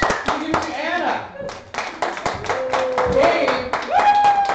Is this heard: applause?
yes